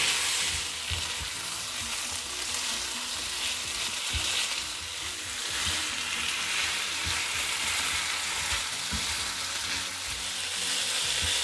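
Potatoes for a dry vrat-style aloo sabzi, mixed with sugar and lemon juice, sizzle steadily in a pan, with soft stirring scrapes now and then over a continuous frying hiss and no talk.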